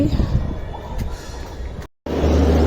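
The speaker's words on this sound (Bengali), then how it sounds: "এই দেখো আমাদের ট্রেন ঢুকে গেছে।" A train rolls into a railway station with a loud, close rumble of wheels and cars, briefly cut off and then resuming as a heavy drone.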